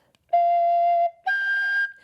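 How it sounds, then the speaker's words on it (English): A woodwind instrument, played while trying to reach the octave, gives two clean, steady whistling tones, the first lower and held about a second, the second higher and slightly brighter after a brief gap, played alone. "All I get is a whistle."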